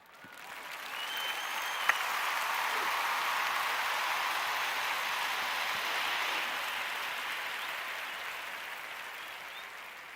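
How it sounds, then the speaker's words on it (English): Sustained hand clapping rises quickly and holds as a dense, steady patter for several seconds before tapering slightly, close and fairly loud with no voices over it. "Let me give that a clap"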